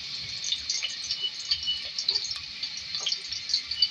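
Onion and whole cumin sizzle in hot mustard oil, a steady bright crackling hiss with small pops running continuously and fairly close, no voices over it.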